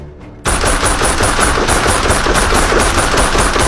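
Rapid automatic gunfire from the movie I Am Legend (2007) bursts in after a brief quiet moment, a loud, sustained rattle of shots firing in quick succession.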